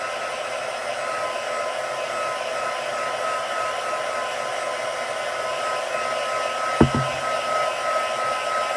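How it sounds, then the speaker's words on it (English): A heat gun drying stamped embossing ink runs with a loud, constant airy roar close by, broken once by a brief sharp knock. "with my heat gun. Just to make sure that it is going to completely dry and not adhere with any of the embossing powder."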